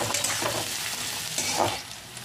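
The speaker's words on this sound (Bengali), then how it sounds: "দিয়ে এটা পেঁয়াজের সঙ্গে এইভাবে একটু নাড়াচাড়া করে নিতে হবে" Onions stirred in a frying pan with cinnamon, cloves and pepper while cooking chicken gizzards: a steady close sizzle of hot oil with a couple of scraping stirs rising through it.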